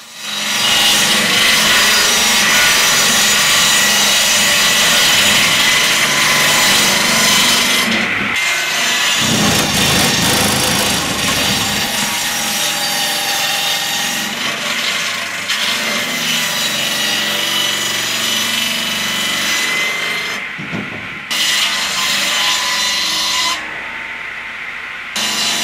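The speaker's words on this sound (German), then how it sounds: "eine Fichte geschlagen, aus der wir heute die Bretter für das Schwimmhaus sägen wollen" Loud, continuous sawing through a spruce log into boards close by, with a harsh rasping texture that pauses briefly a few times before cutting on.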